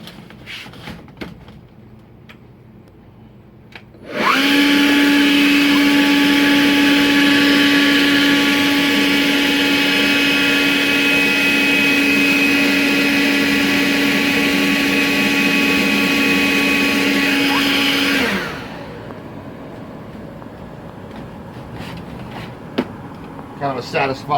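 A Kobalt 40-volt cordless leaf blower, rated 480 CFM and 110 mph, blasts air into a dryer vent for about fourteen seconds, a loud steady whine with a strong tonal hum, starting abruptly and then winding down.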